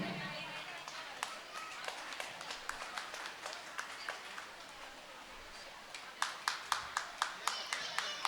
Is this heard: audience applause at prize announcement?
yes